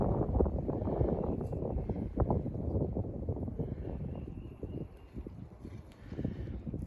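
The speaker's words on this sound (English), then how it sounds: "This wind, I'm sorry if the wind is blowing too much." Wind buffeting the microphone on a creek bank while fishing: a steady, close, low rumbling roar with gusty flutter throughout and no speech.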